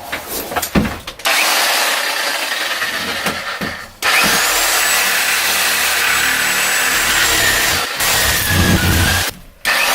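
A power saw cuts out the remnants of a bulkhead on an Albin 36 trawler, running in loud rasping bursts separated by short pauses, close to the microphone.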